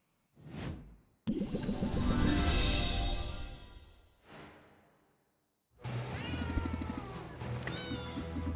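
Cats in the video game Potionomics meow while being petted, giving several clear, close mews and drawn-out cries separated by short silences, with a soft whoosh between them.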